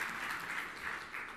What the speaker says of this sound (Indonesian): Yang sujud tepuk tangan yang meriah untuk kemuliaan